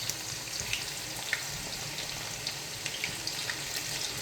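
Onions fry in hot palm oil with a dense, even hiss and scattered small pops and crackles. The sizzle sounds close and continuous and carries no speech.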